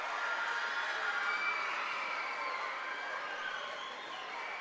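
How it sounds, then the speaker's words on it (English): Basketball crowd at a boys' regional tournament semifinal, a diffuse wash of applause and cheering from a distance, steady and fairly faint throughout. "The crowd applauding, standing up on the far side"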